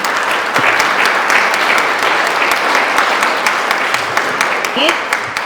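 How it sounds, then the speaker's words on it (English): A large audience applauds elected women at a Celebrate Women gathering: dense, loud clapping that runs steadily from start to finish. "Could you give them a round of applause, please?"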